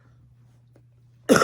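A single sharp cough bursts out near the end, loud and close after near silence, from someone whose chest feels congested and who is bringing up phlegm.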